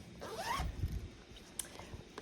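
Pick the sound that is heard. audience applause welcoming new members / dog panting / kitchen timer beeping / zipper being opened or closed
zipper being opened or closed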